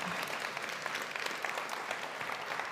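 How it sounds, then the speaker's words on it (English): A school district audience applauds scholars at a state of the district address, with dense sustained clapping from many hands filling the room at an even level. "I want you to simply applaud them"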